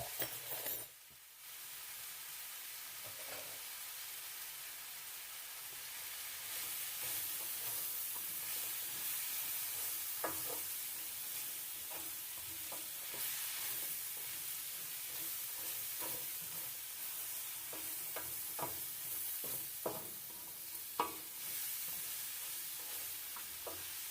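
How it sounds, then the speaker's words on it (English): Onions sauté in a pan with a continuous, fairly quiet sizzle and hiss, broken by occasional scraping and clinking stirs, with no voices. "continue sauteing until they are translucent"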